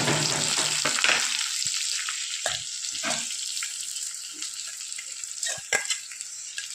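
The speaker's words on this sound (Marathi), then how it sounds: "हे पण दोन तीन मिनटापर्यंत आपल्याला तेलामध्ये छान परतून घ्यायचं आहे" Green tomato curry filling sautéing in hot oil gives a steady, close frying sizzle, broken by a few sharp stirring scrapes, with no voices.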